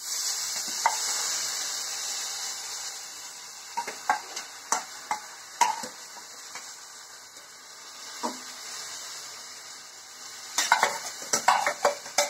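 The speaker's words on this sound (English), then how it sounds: "mix with the rice" Rice and brinjal are stirred in a pot over a soft background sizzle, with bursts of scraping and clattering from the spoon against the metal and quieter pauses in between.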